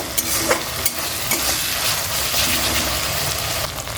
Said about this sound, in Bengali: এবার দিয়ে দিলাম একটু আদা বাটা মশলাটা একটু ভালো করে কষিয়ে নেব